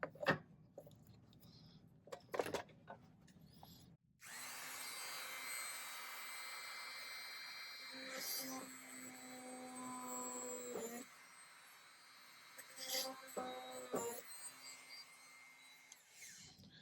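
A Dremel rotary tool whirs while shaping small silver pieces, running in a steady high whine with a few shifts in pitch as it works, after some brief clicks and handling sounds at the start.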